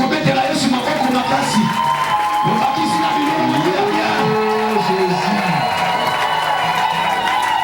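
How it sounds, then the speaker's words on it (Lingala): A church congregation cheers and acclaims God, a dense crowd roar of shouts and voices swelling loudly and continuously, with a prominent voice rising over the noise. "Est-ce qu'on peut acclamer pour Dieu?"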